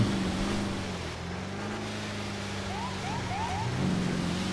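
In GTA 5, a Duramax diesel-swapped Tesla Cybertruck's loud, droning engine rumbles steadily with a low, throaty exhaust tone, shifting pitch slightly as it revs, with no voices over it.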